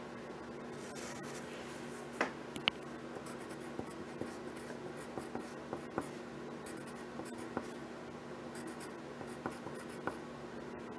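Faint pen scratching as letters are written on a baseball cards crossword puzzle, quiet short strokes close by over a steady low background hum.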